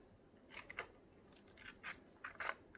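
Scissors snipping material for an iridescent resin star, a few quiet, close cuts in irregular bursts against a near-silent background.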